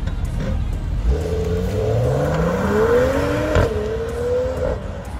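A Mercedes-AMG CLS performance car engine revs loudly and steadily, its pitch climbing through a long rising sweep before dropping back and settling, with no voices.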